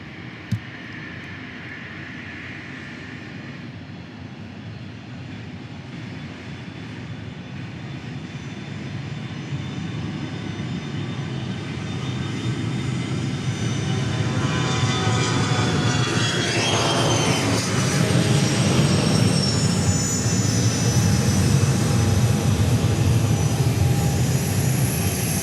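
A Cessna Citation Latitude business jet at Dallas Love Field, its engine roar building steadily from moderate to loud with a rising whine, heard alone without voices.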